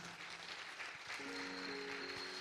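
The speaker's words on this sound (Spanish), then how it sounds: "Dale una ofrenda de palmas" A church congregation gives a short burst of applause as an offering to God, a dense clapping wash heard faintly at a distance with a sustained tone entering partway through.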